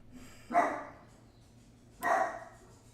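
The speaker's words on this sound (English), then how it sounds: "I guess the dogs didn't like it." Dogs bark twice, about one and a half seconds apart, each a single sharp bark, moderately distant and clear against a quiet background.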